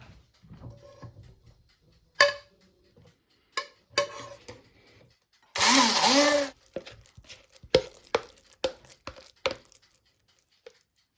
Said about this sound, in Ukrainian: А цю частинку я вже подрібню блендером